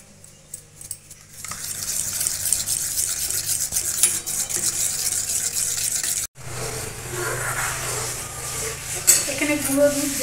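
A spoon stirs dissolved powdered milk into milk in a home kitchen, giving a steady close scraping and swishing that runs continuously, broken once by a brief gap.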